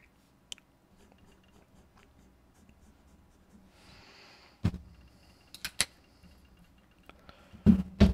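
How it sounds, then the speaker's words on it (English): A Nahvalur fountain pen writes on paper with a faint, soft scratching, broken by a few sharper clicks and taps near the end. "the Bronze Corridors tends to write a little bit fatter on the line"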